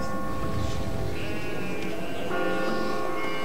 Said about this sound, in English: Looks like all the stray sheep